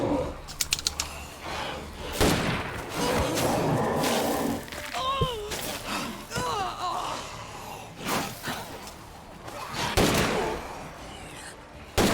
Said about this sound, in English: that took so many shots